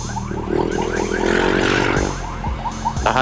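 A wailing ambulance siren rises and falls in repeated sweeps, fairly close, with traffic rumble underneath and a few clunks near the end.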